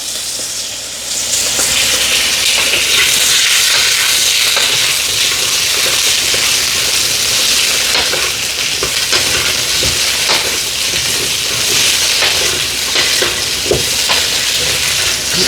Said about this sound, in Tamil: இது சாடியான எண்ணெயில் வதக்க போகிறோம்